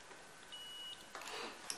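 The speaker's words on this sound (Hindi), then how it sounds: "आपको शो होगा ये बीप कर रहा है मल्टीमीटर।" A multimeter on a continuity test of a shorted, dead mobile phone sounds a steady electronic beep tone for about half a second, over low background hiss with some handling noise.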